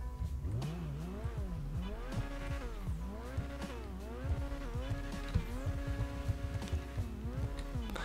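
An Italy GTO sports car engine in GTA 5 revs up and down again and again, a loud, close, whining roar rising and falling in repeated sweeps.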